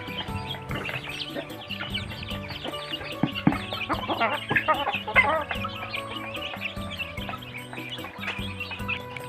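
Burmese chickens cluck and murmur in a busy flock, with small birds chirping over a steady background, no voices.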